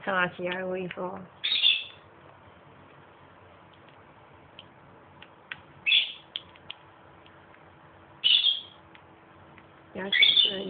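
A pet bird gives a few short, bright chirps spaced several seconds apart, with a person's voice briefly at the start and again near the end.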